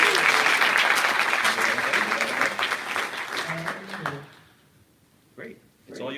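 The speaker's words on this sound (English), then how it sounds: "round of applause." Loud applause from a conference audience greets a keynote speaker, a dense clapping wash that fades out after about four seconds, leaving near-silence broken by a few brief voices.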